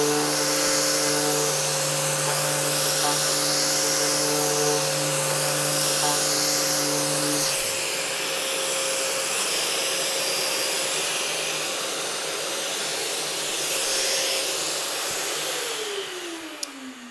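A power sander fitted with a 10 millimeter sponge abrasive pad works on cabinets, giving a steady, loud whine for the whole stretch, with the pitch dropping partway through and sliding down again near the end, and no talk.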